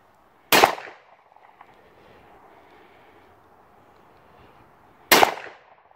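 Two loud, sharp shotgun blasts from a Kofs Sceptre SXE 410, about four and a half seconds apart, each cracking close by and ringing briefly outdoors against a faint background hum.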